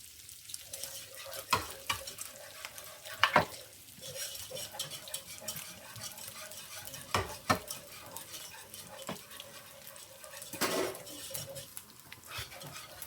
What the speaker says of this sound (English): you have to make sure that you cook your flour when you're making a roux